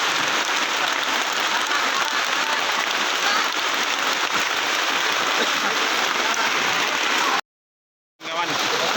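Steady heavy rain pours at the second trail post on a climb of Mount Slamet via Bambangan, a dense continuous hiss heard close and loud, briefly cut to silence near the end before resuming.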